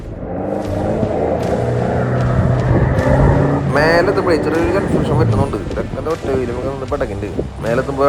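A Mitsubishi Pajero engine labours off-road in first gear in 4LLc, revving hard and steadily through a water-logged climb, with loud varying engine tones and people talking over it throughout.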